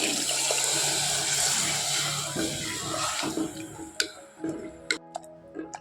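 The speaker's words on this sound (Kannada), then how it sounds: "ನೀರು ಹಾಕೊಳ್ತಾ ಇದ್ದೀನಿ" A rush of water hits a hot pan of fried spice paste, hissing and bubbling, then fades into a few scattered clinks and taps.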